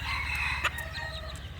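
A bantam rooster crows in one sustained call, fairly loud and close, with a steady low hum running beneath it and a few brief sharper sounds partway through.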